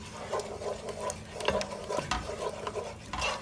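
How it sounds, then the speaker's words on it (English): Ginger and garlic paste sautéing in a pan for chicken korma, a low steady sizzle with repeated scraping stirs of a spoon against the pan, close and quiet, no talking. "Again, saute it nicely, let it get in, blend in this thing."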